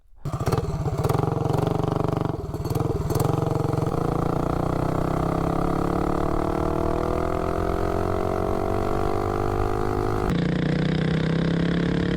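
A mini bike's small engine fitted with a shortened exhaust pipe starts with a few blips, then runs close and loud, its pitch rising steadily as it revs up and pulls away, with no talking.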